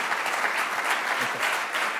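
An audience applauds a guest named Lena at the close of a university talk event, a steady, dense wash of clapping from many hands that holds evenly for about two seconds with a faint voice beneath.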